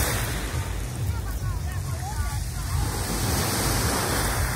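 Sea waves wash steadily onto a beach in a continuous, loud rush of surf, with faint voices in the background.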